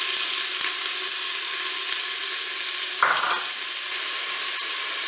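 Onions hit hot oil in a Cookeo multicooker and fry with a steady, loud, hissing sizzle, and a short splash-like burst comes partway through, with no voices.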